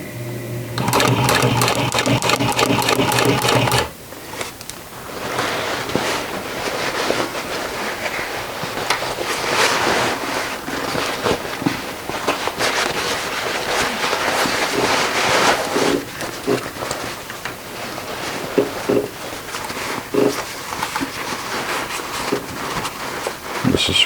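A sewing machine stitching jeans from a Vogue V1895 pattern runs in a loud, fast, steady burst, stops, then gives way to fabric handling and intermittent shorter runs and clicks.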